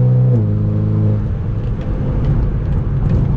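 A car speeds along the Jagorawi toll road in the rain at around 274 km/h, its engine rising in a steady, loud roar with a sustained drone and broad road noise throughout.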